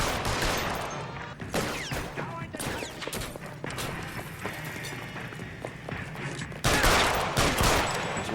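Gunfire in the video game LA Noire, where police exchange shots with armed looters: a run of sharp, punchy shots at irregular intervals, then a louder burst near the end, over a constant game background.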